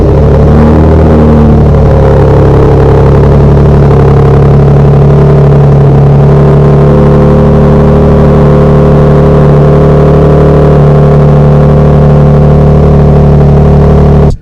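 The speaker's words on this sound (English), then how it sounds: "It just makes the engine give a little more roar with that exhaust." A 2024 Toyota Tundra 1794 TRD V6 engine with an aftermarket exhaust runs in a loud, steady, deep drone with a constant throaty hum and no talking.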